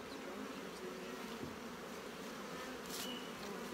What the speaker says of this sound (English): They're making that buzzy sound.